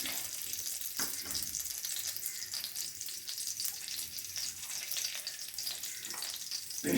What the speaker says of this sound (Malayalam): ഇത്തിരി നെയ്യ് ഇട്ടിട്ട് അണ്ടിപ്പരിപ്പും മുന്തിരിങ്ങയൊക്കെ ഒന്ന് വറുത്ത് വയ്ക്കാം